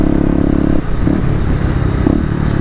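Up close, a Kawasaki KLX250 dirt bike engine runs loud with a throaty buzz, rising briefly in revs twice over under three seconds.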